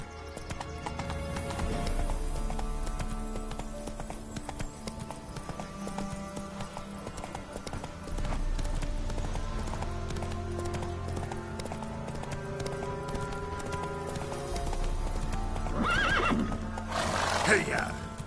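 In The Witcher 3, a horse gallops with rapid, rhythmic hoofbeats and an occasional whinny, heard over game music, while a voice speaks in short bursts.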